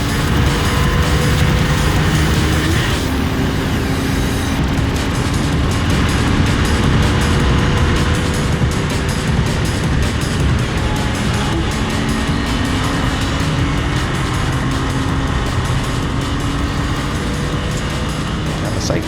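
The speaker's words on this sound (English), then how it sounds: "car in the AM category will be heading through shot any second" Porsche race cars in a Porsche Sprint Challenge race on a circuit, their engines making a loud, continuous roar as they pass close by, with shifting whines rising and falling throughout.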